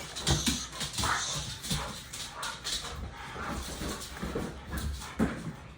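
A dog whimpers and whines softly indoors in several short, uneven bursts, with light rustling between them.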